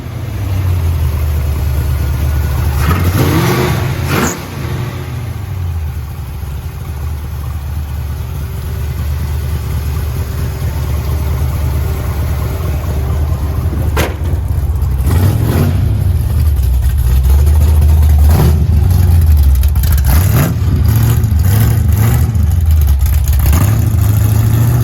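A 1973 Ford Mach 1 with a built big-block 460 V8 and B&M shifter drives off, its loud deep engine idling, then revving and pulling through several rising throttle bursts, close and steady with no talk.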